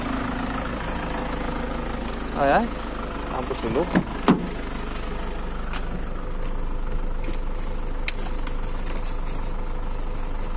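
An old, scratched Toyota Hilux idles steadily in a dark spot, the low engine hum running throughout while someone speaks briefly over it and a few clicks and knocks cut in.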